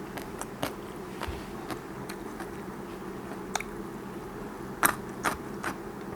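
Someone chews egg-filled squid in a spicy Thai fermented-fish salad with rice noodles, giving quiet, close, scattered crunchy snaps and squishy bites over a low steady background hum.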